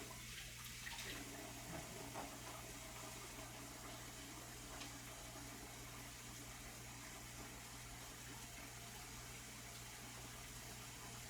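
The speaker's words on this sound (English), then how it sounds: "I'm going to go over to the sink and wash my hands and put some gloves on." Steady running water from a sink tap while hands are washed, a continuous broadband rush that holds evenly throughout against a low steady hum.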